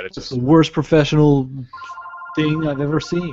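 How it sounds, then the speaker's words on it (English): A telephone rings with a steady electronic tone in the middle of the clip, filling a pause between stretches of close studio talk from hosts on an entertainment show. "And that's a phone ringing."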